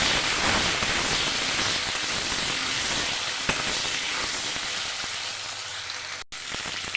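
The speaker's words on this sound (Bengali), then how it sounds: "আলুটাকে ভালো করে ভেজে নেব।" Potatoes frying in hot oil with cumin, turmeric and salt in a wok, a steady broad hiss and sizzle that holds loud and even for several seconds, with no talk.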